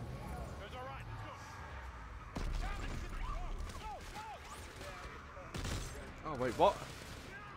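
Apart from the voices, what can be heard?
gunfire in video game Dead Space 3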